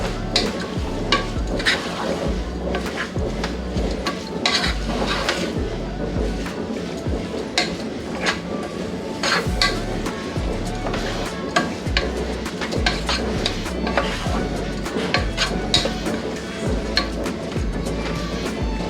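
Spring onions frying in oil in a pan, stirred throughout with a steady crackling sizzle and occasional scraping clinks of a utensil, continuous and close, with a voice speaking over it.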